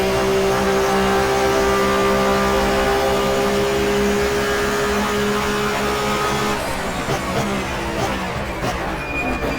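Touring car engine from a 1994 German Touring Car Cup race in the GTR2 racing game, held at high revs in sixth gear with a steady, loud drone throughout, shifting slightly in tone near the end.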